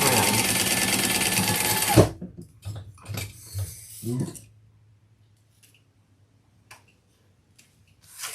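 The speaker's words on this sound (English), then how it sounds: "I'm going to stitch across the top." A sewing machine stitches across the top of a fabric handbag in one loud, steady run of about two seconds, then stops. Soft handling clicks and rustles follow, with a brief spoken word.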